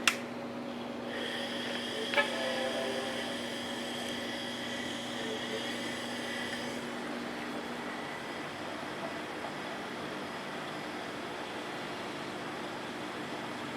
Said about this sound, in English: I'll turn it back on, and we'll take a listen to that hard drive.